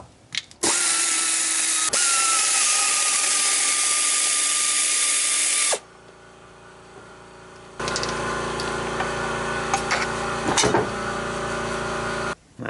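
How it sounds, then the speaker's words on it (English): An impact or power tool with an 11 mm socket removing the rear drive shaft bolts on a Chevy Tahoe GM 10-bolt rear end, a loud continuous whine for about five seconds followed by quieter rattling mechanical running. "It's held on with 4 bolts, 2 on each side. Remove those with an 11mm socket."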